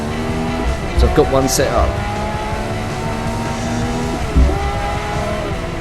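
Engine of a 1967 Bugatti race car in a racing video game, a steady droning whine with harmonic bands that shift as it revs, with brief tire squeals and a short skid, under someone talking.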